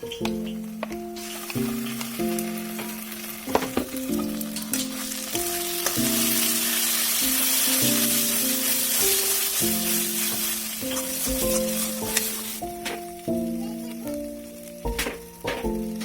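Loud, steady sizzling of onions and spice paste frying in a pan for Bengali-style dum aloo, with occasional stirring clatter, while a melodic instrumental tune plays over it.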